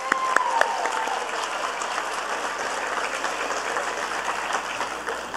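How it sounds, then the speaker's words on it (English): Parents and audience at an elementary school kindergarten celebration give a steady round of applause, a continuous wash of clapping with a few brief tones near the start, holding evenly to the end. "Give her a nice round of applause."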